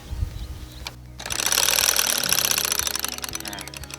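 A solar-powered electric lawn mower is switched on. After a click its motor starts with a loud, steady, buzzing whine that keeps running close by.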